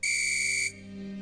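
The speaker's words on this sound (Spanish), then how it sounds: "¿qué te parece, Pedro, si lo empezamos con un pitido inicial?" A single sharp referee's whistle blast signals the start of a football match, a loud, close, shrill tone held for well under a second before cutting off, leaving a low steady hum.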